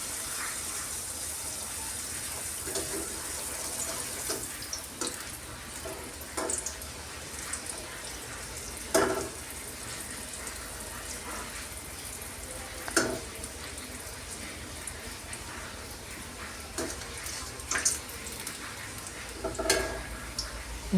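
Athirasam sweets fry in refined sunflower oil over moderate heat, a soft, continuous sizzle broken by occasional sharper crackles and pops, close by.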